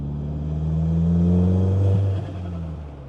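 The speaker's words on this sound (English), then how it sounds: "I'm gonna go ahead and get into some boost and see how that blow-off valve sounds." A Volkswagen Golf R on a back road builds boost with a loud, steady engine drone that swells and then drops off, with a blow-off valve release as the throttle lifts.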